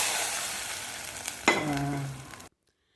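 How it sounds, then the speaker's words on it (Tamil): Steady crackling sizzle of spices frying in a hot pan for neem flower rasam, with a brief clatter of stirring midway, then abrupt silence. "இப்போ வந்து நல்லா ஃப்ரை ஆயிடுச்சு கலர் மாறிடுச்சு பார்த்திங்களா"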